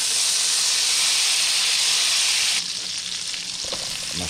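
Peppers fry in butter in a pan for a Philly cheesesteak, giving a loud, steady sizzle that drops slightly in level partway through and continues with faint stirring clatter near the end.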